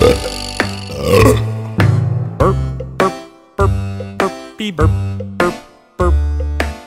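A run of about eight short, throaty burps in irregular rhythm, each an abrupt loud burst with a quick fade, close and clear with no other sound between them.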